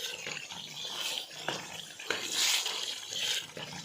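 Water splashes and pours continuously into a cooking pot of aloo matar qeema curry, a fairly soft, hissing flow with a few small clunks along the way.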